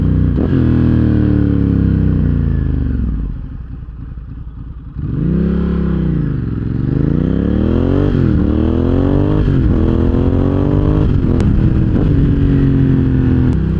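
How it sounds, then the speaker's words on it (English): A Ducati Hypermotard 1100 EVO SP motorcycle engine idles with a lumpy, loud throb, then revs up and down in repeated blips, close and without any talk. "When we talk about an engine having a lot of character, this is what I mean."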